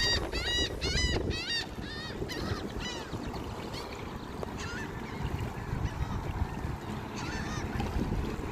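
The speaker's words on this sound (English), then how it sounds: "seagulls." Gulls calling in a run of harmonic cries over steady outdoor noise and low rumble on the shore at Rockport, Texas, a burst of several calls early, then scattered cries farther off.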